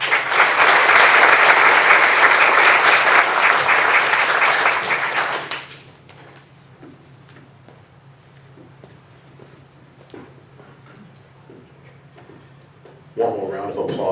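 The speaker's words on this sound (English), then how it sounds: "One more round of applause for all." Audience at a breakfast event applauding loudly for about five seconds before the clapping stops abruptly, leaving quiet room noise with scattered small knocks and movements, then a brief burst of sound near the end.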